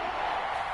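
Stadium crowd cheering in a football video game ahead of a big third down, a steady dense roar that holds evenly throughout without distinct peaks.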